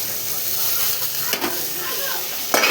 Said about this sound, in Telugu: అట్లా వేగినాక ఈ కందులు ఇందులో పోసుకోవాలి